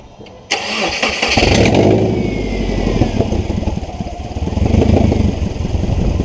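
A Subaru engine with a lack of power cranks and catches, then roars loudly and keeps running with a rough, rumbling revving close by.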